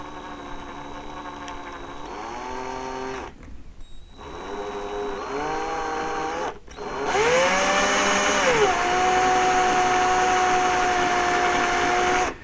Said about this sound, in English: I'm just going to use a small drill bit and slowly drill out a hole